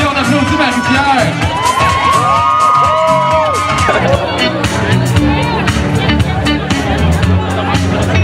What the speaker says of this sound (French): on applaudit Marie-Pierre!